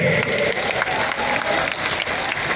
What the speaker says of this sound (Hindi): अब इन हाथों को तालियों में बदल दीजिए।